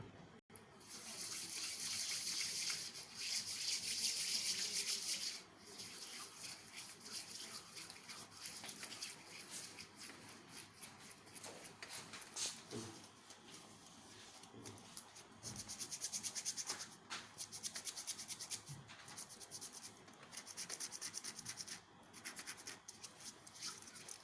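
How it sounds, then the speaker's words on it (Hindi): Hands being washed with soap under a running tap: a steady hiss of flowing water with rubbing and splashing throughout, rising and falling in loudness over about twenty-four seconds, with no speech. "मास्क लगाने से पहले सबसे पहले अपने हाथ को अच्छे तरीके से साबुन से धो लें या सैनिटाइज कर लें।"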